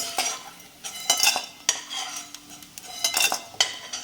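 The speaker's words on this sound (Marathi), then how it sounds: "असं थोडासा करतच आपण डिंक तळून घ्यायचा." A utensil scrapes and clinks repeatedly against a pan in uneven strokes, stirring edible gum as it fries, while a faint sizzle sits underneath.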